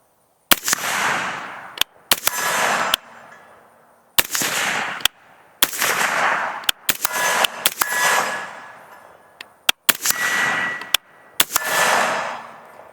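Suppressed rifle shots at targets ring out as sharp, loud cracks, some single and some in quick pairs, each trailing into a long echoing rumble across the range, with nobody talking.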